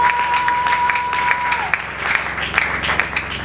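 Church congregation clapping in acclamation of the Lord during worship, a steady crowd applause with scattered sharper claps, fairly loud and continuous throughout.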